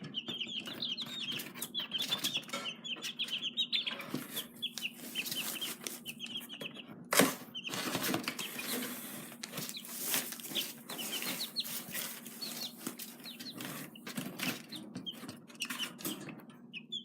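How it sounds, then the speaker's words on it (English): Young chicks cluck and peep steadily while being fed, a soft, busy chorus of high chirps close by with a low hum underneath and an occasional bump. "Once one of them starts eating, they make a little sound and the other ones jump over and start eating too"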